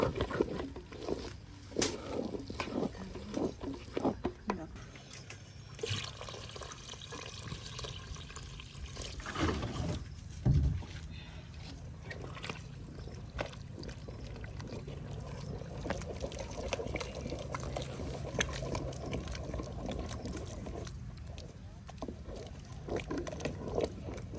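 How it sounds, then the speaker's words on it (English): Water is poured steadily into a cooking pot of matooke in an African village, a continuous splashing gush with occasional clanks, fairly quiet and unaccompanied by voices. "And then we're going to add in water"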